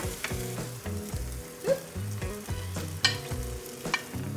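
An egg cooking in a pan with no oil, a steady close sizzle broken by repeated scraping and stirring strokes and a few louder clinks.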